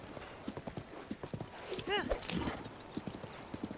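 In the video game The Legend of Zelda: Breath of the Wild, a horse's hooves clip-clop in a steady rhythm and a short whinny rises midway, all fairly quiet and under a person talking.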